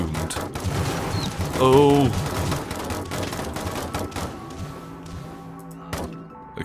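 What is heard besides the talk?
gunfire in the video game Totally Accurate Battle Simulator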